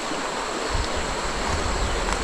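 Steady rushing of flowing river water, a continuous broadband wash with no voices.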